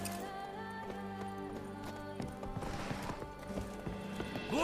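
Hooves of Roach, a horse in The Witcher 3: Wild Hunt (Blood and Wine), clop in a steady gallop against game music, getting busier toward the end.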